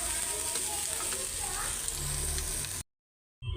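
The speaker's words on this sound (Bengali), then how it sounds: "তো শুটকিটা আগে ভাজা নিই।" Dried lotka fish (shutki) frying in a pan for a mash, giving a steady close hiss and crackle that cuts off abruptly near the end, followed by a short silence.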